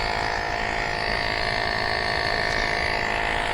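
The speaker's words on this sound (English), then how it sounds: "So, how are you enjoying the sound of my pump?" A pump runs during electric bike maintenance, giving a loud, steady buzzing drone with an even, slightly pulsing texture that carries on unbroken and alone.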